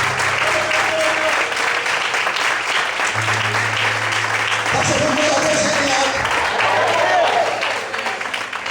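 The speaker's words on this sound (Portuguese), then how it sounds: "Vamos aplaudir o Senhor mais forte" Loud sustained clapping from a church congregation at an evening service, thick and continuous throughout, with a voice speaking over it partway through.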